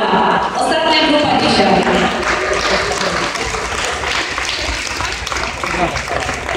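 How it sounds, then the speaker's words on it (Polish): An audience applauds at an international dog show during the final judging of the pointing-dog group. The clapping is sustained and fairly loud, with a voice heard over it. "Proszę Państwa, brawa."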